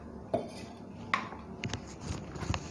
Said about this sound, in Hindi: और अच्छे तरीके से इसे मिक्स कर लेते हैं।